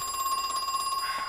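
Electronic telephone bell ringing in the horror video game Crow Country, a steady pulsing ring repeating throughout at moderate level, with no talk over it.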